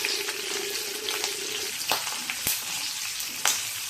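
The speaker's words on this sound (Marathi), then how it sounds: "परतून घेणार आहोत." Green chilies and garlic sizzle and fry steadily in a hot pan on a home stove for a pumpkin-leaf vegetable dish, with a few sharp crackles and faint stirring clinks over the continuous hiss.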